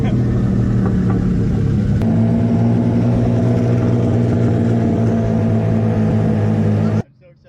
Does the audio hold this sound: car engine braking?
yes